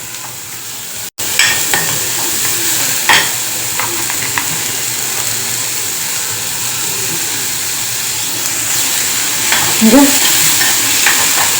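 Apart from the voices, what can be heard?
vegetables being stirred and fried in butter for corn soup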